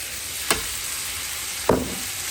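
Vegetables tipped into a hot pan on an electric stove for a sweet chili chicken bowl, giving two brief bursts of sizzling over a steady background frying hiss, with no talking.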